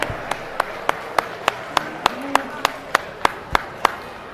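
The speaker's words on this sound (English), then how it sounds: "Let's go ahead and give for these kids a nice round of applause" Audience at a junior steer and beef showmanship livestock show gives the kids a round of applause, heard as a steady series of sharp, evenly spaced claps, moderately close, with low background murmur.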